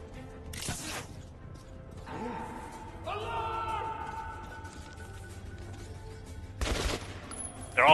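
AK rifle bursts fire in the Metro 2033 Redux video game, two short loud volleys about six seconds apart, with quieter in-game mechanical and ambient sounds between them.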